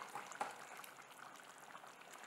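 Soft bubbling and sizzling from ivy gourd kurma simmering in a pan on the stove, steady and fairly quiet, with a few brief pops and no voices.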